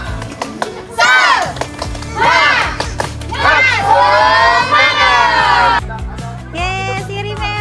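Kindergarten children at a nature-school day camp shout a loud, rhythmic clapping chant called tepuk semangat in energetic bursts, with the group's voices and claps close and overlapping.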